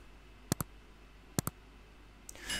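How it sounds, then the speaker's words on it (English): Two pairs of sharp mouse clicks, each a quick double tap, ring out near and clear against a quiet room, followed by a faint rising hiss at the end. "All I have to do is to go ahead and click on download."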